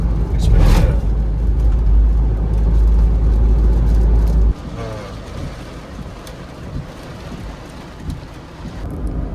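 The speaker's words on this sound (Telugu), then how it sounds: "అయితే మనకు వర్షం కూడా స్టార్ట్ అయిపోయింది" Steady rain patters and hisses against a lorry's glass, with a low rumble like a vehicle engine that cuts out midway, leaving lighter rainfall.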